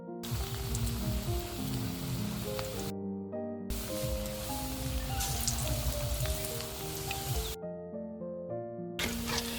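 Oil sizzling and crackling steadily as lentil fritters fry, interrupted twice by brief cutoffs, with tonal background music underneath.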